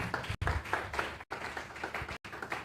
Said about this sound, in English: Can you please give her a wonderful round of applause?